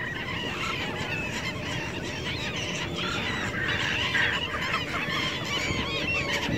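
A flock of Andean gulls calls continuously at the Pantanos de Villa wetlands near Lima, a dense chorus of overlapping harsh cries layered over steady outdoor ambience, with no talking.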